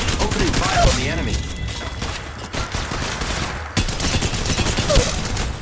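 Apex Legends Mobile gunfire, steady rapid automatic bursts close and loud throughout, with brief gaps, under intermittent in-game voice callouts.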